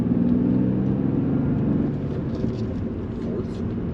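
A 1999 BMW M3 coupe accelerating in third gear, a steady low engine rumble filling the interior, with a person talking over it.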